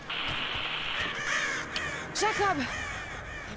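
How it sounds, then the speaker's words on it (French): Crows in the video game Rise of the Tomb Raider give several harsh, wavering caws, the loudest pair near the middle, while someone shouts briefly over them. "Merde! Des corbeaux."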